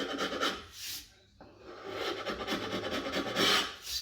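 A chisel scrapes dried glue off a wooden bead on a kitchen door in a series of close, raspy strokes with a short pause partway through.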